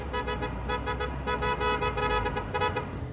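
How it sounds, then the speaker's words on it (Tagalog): Car horns honk repeatedly on roads covered in thick snow in Georgia, several short toots and longer blasts from vehicles at moderate distance, sounding in uneven bursts. "mayat-maya ang busina ng mga sasakyan para maiwasan ang disgrasya sa gitna ng makapal na snow sa mga kalsada"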